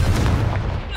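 A Confringo fire spell explodes in the Hogwarts Legacy video game, a loud, deep boom with rumbling impact that quickly decays within about a second.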